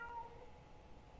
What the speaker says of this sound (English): I'm sorry about my cat.